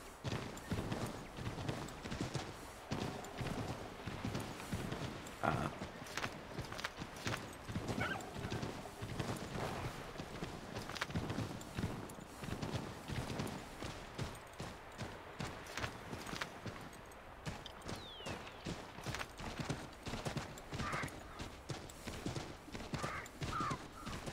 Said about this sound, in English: to be riding around on a horse in a video game